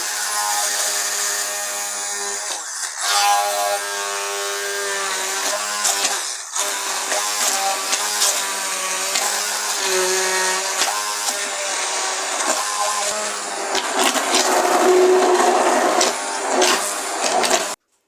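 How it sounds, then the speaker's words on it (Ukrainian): A loud motorized whir of a blender running continuously, its pitch shifting slightly as it purees boiled pumpkin for soup. "б'ємо їх блендером"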